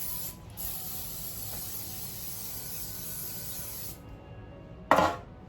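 A pan is greased for persimmon bread with a long, close spray hiss lasting several seconds, then a brief sharp burst of spray after a short pause.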